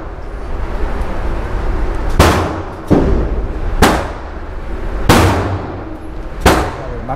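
Handgun shots ring out at a shooting range in California: five sharp, loud reports spaced a second or so apart, each with a short echoing tail over steady background noise.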